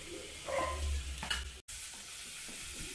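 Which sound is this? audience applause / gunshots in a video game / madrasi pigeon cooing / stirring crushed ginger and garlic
stirring crushed ginger and garlic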